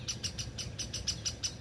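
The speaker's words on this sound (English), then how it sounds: "These birds is really tripping me out right now." Birds chirp outdoors in a quick, steady series of short, bright calls, about one every fifth of a second, with a low background hum beneath.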